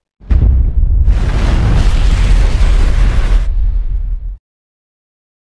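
A huge, loud bomb explosion with a deep rumbling boom that roars for several seconds, then cuts off abruptly, in the anime Kaiju No. 8.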